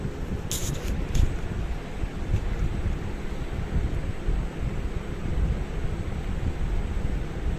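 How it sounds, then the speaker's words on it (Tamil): Wind roaring steadily over the microphone during a motorcycle ride in light drizzle, a continuous broadband rush with a few faint brief clicks near the start and no voices. "காற்று லைட்டான சாரல் மழை நல்லா தான் வீசிட்டு இருக்குது"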